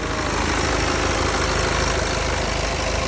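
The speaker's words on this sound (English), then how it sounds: "I like a little bit of diesel clatter" A 2014 BMW 328d B47 diesel engine idles steadily with a dense, rattling clatter, loud and close, unchanging throughout.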